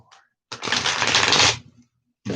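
A tarot card deck is shuffled in one dense riffling burst of about a second, close and fairly loud, with a short softer rustle before it and another starting at the end.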